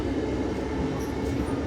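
Steady rumble and rattle inside a moving Amtrak passenger train, a continuous close cabin drone with no one speaking.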